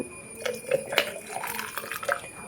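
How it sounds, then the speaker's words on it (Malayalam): Boiled water pours steadily into a flask, a hissing, splashy stream with a few light clinks of the vessel, heard close up. "വെള്ളം തിളച്ചു ഫ്ലാസ്കിൽ പകർത്തി വെക്കുകയാണ്"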